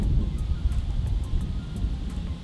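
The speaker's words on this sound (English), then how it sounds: "It's so windy, but we're gonna make it work" Steady wind buffets the microphone with low rumbling gusts, loud and continuous, with no voices.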